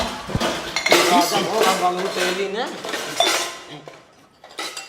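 Steel utensils, plates and pots clatter and clink in quick bursts while household dishes are handed out and divided, with ringing metallic chimes and a brief pause near the end.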